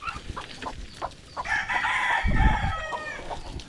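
A rooster crows loudly nearby amid clucking hens, with scattered rustling and a low thump beneath the call.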